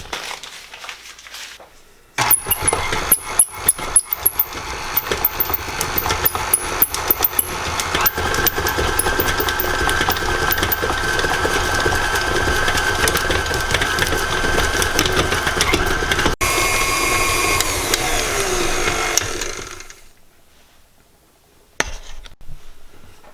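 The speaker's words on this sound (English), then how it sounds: "take your shortening and your softened butter, put them in the mixer, and beat them until they're light and fluffy" Electric stand mixer beating shortening and softened butter for pink buttery decorator icing, a steady loud whirring and thumping drone that runs about seventeen seconds before cutting off into near silence.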